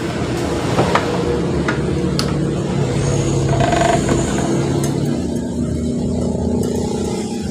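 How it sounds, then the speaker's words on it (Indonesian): A rewound three-phase 3 hp tandem electric motor on a bench test run, its fan spinning freely with a steady mechanical hum and light rattling clicks, close by and moderately loud, no talking. "Tes kipasnya udah muter ringan."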